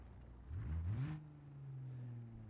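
A Cummins diesel swapped into a Ford Galaxie revs in the BeamNG driving game, the engine note climbing quickly then settling into a steady drone with a faint whine, no talking.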